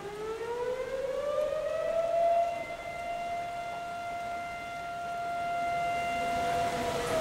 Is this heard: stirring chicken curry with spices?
no